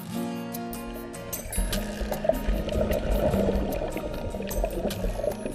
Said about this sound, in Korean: 손발을 크게 저어 물보라를 일으키는 모습이